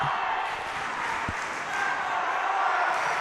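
A home crowd at a high school CIF finals match, heard through a field mic, produces a steady diffuse roar of cheering and murmur with a single thump partway through.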